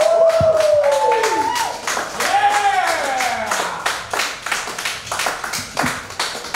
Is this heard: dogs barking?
no